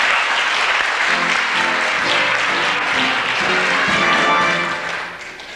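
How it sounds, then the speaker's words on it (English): An audience at a high school musical production of The Mystery of Edwin Drood claps in a dense, sustained round of applause that fades slightly at the end. "a warm round of applause for Nick Cricker"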